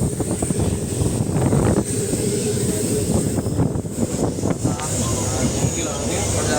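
Passenger train pulling out of Ratnagiri station: a continuous rumbling, rattling roar with wind buffeting the microphone, close and fairly loud, with muffled voices mixed in.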